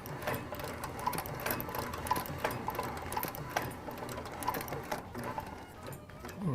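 A sewing machine stitching a leather skate tendon guard, a fast steady mechanical chatter of the needle with small clicks and bumps, close and fairly quiet, running unbroken.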